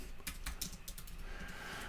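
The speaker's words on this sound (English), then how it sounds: "and we'll start typing." Fingers type on a computer keyboard while code is written, quiet irregular key clicks in a short burst with no speech.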